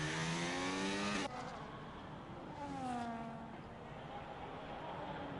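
Race car engine in a sim racing game at Monza, a loud harmonic drone that cuts off abruptly, then a second car's engine sweeps in and passes mid-clip, falling in pitch against steady background noise.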